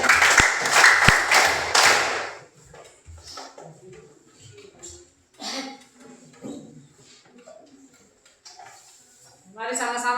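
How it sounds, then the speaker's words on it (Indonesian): A brief burst of close clapping from a small group for about two seconds, followed by quieter talking and rustling. "Tepuk tangan dulu untuk keempat teman kita ya"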